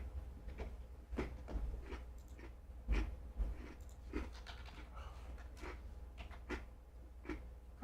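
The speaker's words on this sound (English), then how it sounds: "Crunch, crunch, crunch." Crunchy veggie straws being chewed close to a microphone, a run of short, sharp crunches in an uneven rhythm, with a low steady room hum beneath and no talking.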